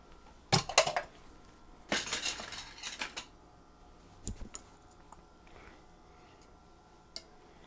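Metal utensil scraping and clinking inside a clay pot as chicken and rice with oyster sauce are stirred, a few sharp bursts with quieter scrapes between, close and fairly soft.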